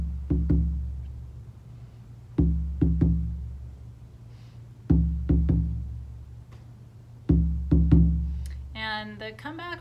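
Frame drum playing a callback pattern: groups of deep, resonant strikes in three bursts, each decaying with a low ring, close and alone, ending with a brief tonal flourish.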